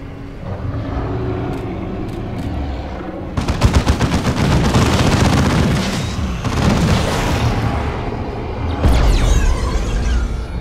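Plasma cannon fire and explosions in Dawn of War 2, with loud bursts of rapid gunfire, heavy booms and crackling blasts layered together, ending in a final big explosion.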